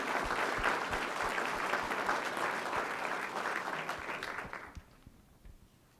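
Audience applause at a school board meeting honoring deserving young students, a dense steady round of clapping from a large room that fades out near the end.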